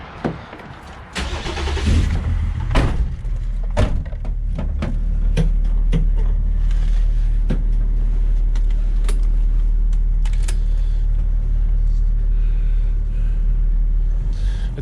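A Toyota Land Cruiser Troopy with an M57 engine is started with key and clunk sounds, then settles into a deep, steady rumbling idle and drive, heard close from inside the cab.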